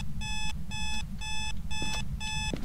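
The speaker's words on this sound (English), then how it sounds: "the alarm's one off in here, bro. It's sitting on the radio." An alarm clock in Phasmophobia rings in five regular electronic beeping bursts over a low rumbling background, steady and moderately loud, with a few faint clicks and no talk.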